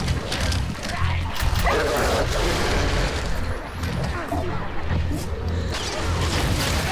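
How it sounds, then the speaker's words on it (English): Hound enemy barking in Warhammer 40k Darktide, a dense run of harsh barks and yips amid steady combat noise and booming gunfire, loud and close throughout the whole stretch. "That's a hound!"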